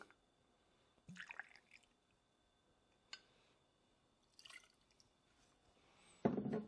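Bourbon is poured out for a cocktail, 1.5 ounces into a jigger, as faint brief liquid trickles and drips with quiet handling sounds between them, ending in a louder clink.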